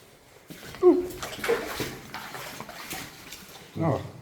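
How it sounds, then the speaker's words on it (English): Footsteps wade through ankle-deep rusty floodwater inside an abandoned Cold War bunker, sending close, echoing splashes and sloshes, with a voice speaking briefly between them. "it's ankle deep in rusty water"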